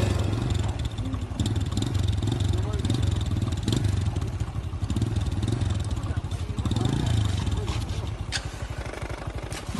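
Motorcycle ride with a steady mid-range engine drone and clatter throughout, loud and close, with speech-like sounds mixed over the engine.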